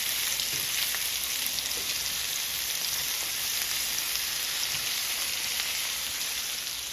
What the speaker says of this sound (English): we're going to cook the meatballs on this side